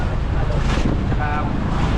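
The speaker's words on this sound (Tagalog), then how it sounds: "Mahangin-hangin mga kamising." Strong wind in an open area near the sea, gusting loudly against the microphone in a constant heavy rumble, with faint voices underneath.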